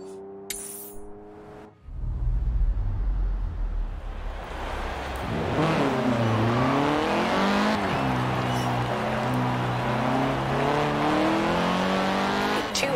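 A car in Forza Horizon 4 starts up and drives off, its engine revving loudly and climbing through repeated gear shifts, close and continuous with a brief tire squeal, no talk heard.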